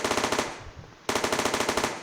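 Rapid automatic gunfire from a Counter Strike-style mobile shooter game, a fast steady burst of loud close shots that briefly fades, then resumes at the same rate.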